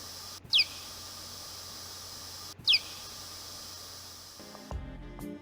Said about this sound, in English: a high-frequency chirp from an Indiana bat shows the time dependence in the chart